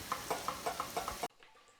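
Two pork chops sizzle in a hot pan, with a steady bright crackle pulsing in rapid spatters before cutting off abruptly to near quiet.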